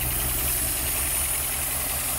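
An old Ford Maverick engine, unstarted for 26 years, idles steadily and close by with a low rumbling throb and slight rough knock, no talking.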